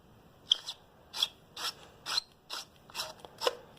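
A Maglite ML300L flashlight cap is twisted loose in a series of about eight short, crisp scraping clicks, evenly spaced and close up in a quiet room.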